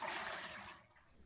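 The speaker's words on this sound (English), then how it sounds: "Just give it a good rinse." Aquarium gravel being rinsed under warm running water, a soft steady rush that gradually thins out, faint and heard alone.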